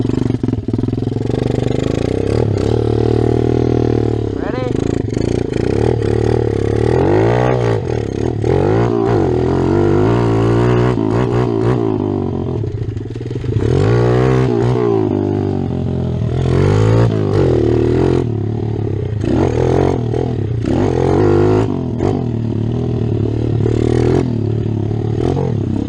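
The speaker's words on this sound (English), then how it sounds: "Since I don't have a clutch, I can't dump the clutch, I'm just gonna do burnout." A clutchless motocross dirt bike does a burnout at the starting line of a motocross track, its engine revving loud and close in repeated rising and falling surges with clattering and scraping.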